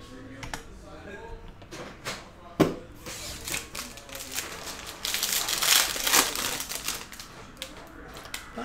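Foil wrapper of a 2019 Prizm football hobby trading card pack being torn and crinkled open up close, with scattered sharp rips and rustling that build into a denser crackling burst near the end.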